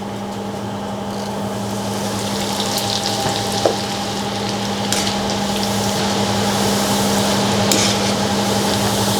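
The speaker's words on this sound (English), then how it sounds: "And then you fry dry shrimp." Dried shrimp fry in a pan for Thai chilli paste, a steady close sizzle with a faint hum underneath and a few light clinks of stirring.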